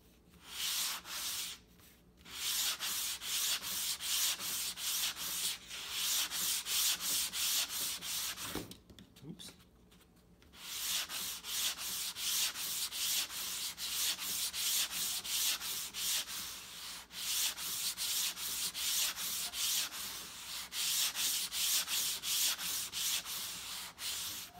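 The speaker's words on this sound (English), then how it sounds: "we want to pretty much sand the full length of the wing itself to thin that out" Sandpaper rubs steadily along a balsa wood wing of a 12-inch Sandpiper glider, thinning it in fast, even back-and-forth strokes, close and continuous with a few brief pauses and no talk.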